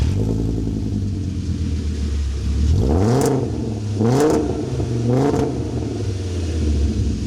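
A VW Beetle bought at a police auction idles with a lumpy, close rumble, then is revved three times in quick blips that rise and fall before settling back to idle.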